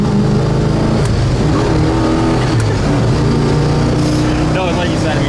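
A 1967 Pontiac GTO cruising at about 63 mph and 3,000 rpm, a steady low engine drone with road and cabin noise, loud and constant while people talk inside the car.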